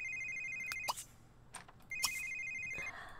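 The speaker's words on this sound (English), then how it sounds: "Oh, my phone's ringing." A phone ringing in The Sims 3 video game, an electronic ringtone repeating in two bursts with short chiming notes, fairly quiet and without talk.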